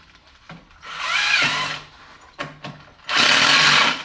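A power drill drives screws into wood while building a planner craft table, two loud sustained whirring bursts with brief clicks and bumps between them, close and without speech.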